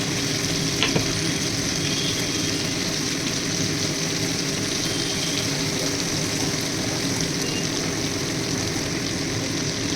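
Tangra fish rubbed with turmeric fries in mustard oil, a dense, unbroken loud sizzle that holds steady throughout, close by and with no voices.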